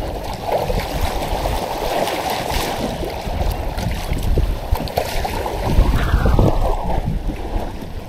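Continuous rushing wash of waves slapping against a moving small boat near Boca Grande pass, Florida, mixed with heavy wind buffeting, loud and unbroken throughout.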